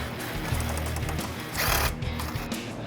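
Bolts coming off the grille of a 2014-2015 Chevrolet Silverado 1500 with a tool, heard as a steady mechanical whir and clicking of a ratchet or driver, with a louder burst partway through and no talk.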